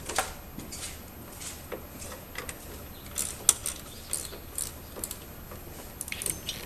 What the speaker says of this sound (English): Using a T25 Torx, remove the two bolts that are holding the charcoal canister in place.